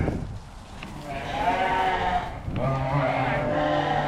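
Sheep and ewes bleating on a farm during lamb weaning, several long wavering calls close by, overlapping one after another with a brief pause between.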